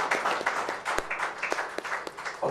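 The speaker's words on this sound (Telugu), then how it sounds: "కాబట్టి ఔచిత్యం కోసం, ఆరోగ్యం కోసం మనం చప్పట్లు కొడదాం." An audience at a book release event claps in a burst of applause. It is moderately loud, with irregular individual claps standing out.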